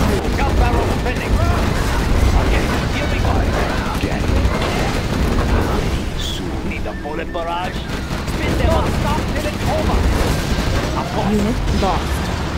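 Gatling tank fire in the video game Command & Conquer Generals Zero Hour, a dense, continuous roar of rapid gunfire and booming impacts that stays loud throughout, with faint game unit voices mixed in.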